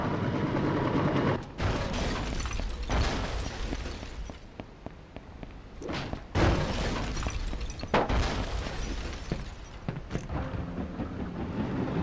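Enemy gunfire and explosive booms in the war video game Mercenaries: Playground of Destruction, a dense, loud barrage of blasts and shots with several sharp bursts standing out over continuous rumbling chaos.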